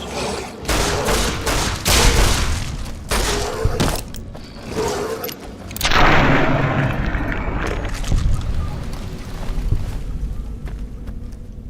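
Loud blasts and shots go off in Fallout: New Vegas, with repeated booming explosions and rapid bursts. The heaviest boom comes around the middle, followed by rumbling and more scattered shots.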